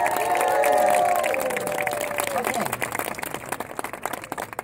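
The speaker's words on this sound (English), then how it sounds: "big round of applause" Applause and cheering from a crowd for Carmen Coggins at a tea gathering held during the ACTFL conference, with a voice speaking loudly over the start; the clapping is steady and continuous, then tapers into scattered claps near the end.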